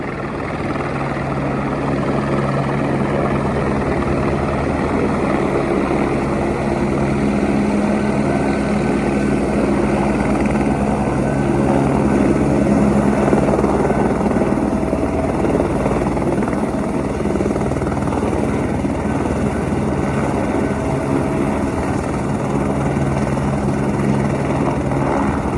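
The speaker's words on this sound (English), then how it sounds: "There's another helicopter landing behind me. He's gonna land on the pad over there." A helicopter lands on a hospital rooftop helipad six or seven floors up, its rotor and engine a loud, steady, continuous thrum with heavy wind buffeting throughout.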